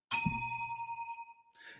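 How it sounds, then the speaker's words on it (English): A hand bell rings once on a morning radio show, a bright metallic ding with a long ringing tail, followed by a brief faint jingle as it settles. "she will ring her bell"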